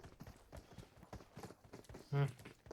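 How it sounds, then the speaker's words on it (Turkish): Footsteps sound behind the player in the PUBG Mobile video game as a quick, rhythmic series of soft thuds, fairly faint and steady, ending in a louder thump. "Arkamda da ayak sesi var."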